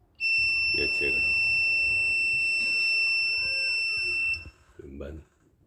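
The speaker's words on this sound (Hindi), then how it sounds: "तो ये डोर सिक्योरिटी अलार्म है।" A door security alarm sounds with a steady, piercing high electronic tone that holds for about four seconds and then cuts off, while someone talks briefly before and after it in a quiet indoor room.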